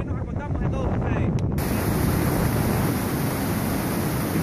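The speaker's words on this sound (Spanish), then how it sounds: "Es increíble cómo se mueve tanta agua y con la velocidad que se mueve." Rushing water at Niagara Falls just above the drop, a loud, steady broadband roar filling the whole clip, with a brief faint voice-like murmur at the start.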